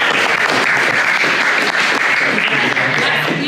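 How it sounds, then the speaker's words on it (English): An audience claps and cheers for a hackathon team at a demo event, a dense, continuous burst of applause filling the room without pause. "everyone give them a round of applause"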